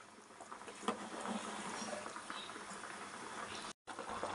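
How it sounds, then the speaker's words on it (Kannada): Fish sambar simmering in a pot, a steady soft bubbling hiss up close with faint pops, heard alone. "ಈಗ ಇದೊಂದು ಮಳ್ಳು ಬರಲಿ."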